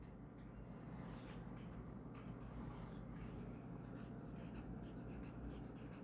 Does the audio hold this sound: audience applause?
no